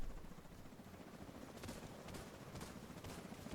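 In the video game The Division 2, a helicopter drops enemies during a Roosevelt Island mission, its steady rotor roar filling the scene while faint, scattered gunfire crackles beneath.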